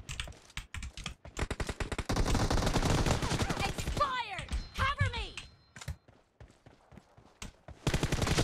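PUBG Mobile gunfire comes as rapid, loud bursts of shots with a run of sustained automatic fire in the middle, mixed with sharp clicks and keyboard-like tapping and a voice talking at times.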